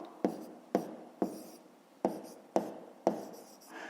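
A pen scratches out a handwritten number on paper, six short sharp strokes in a quick irregular rhythm, close and quiet with no voices.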